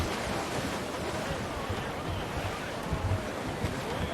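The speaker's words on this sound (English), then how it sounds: "the wind!" Strong wind blows across the open sea in Assassin's Creed Black Flag, joined by rolling surf against a sailing ship. The roar is steady and loud throughout, with only small gusts rising out of it and no voices.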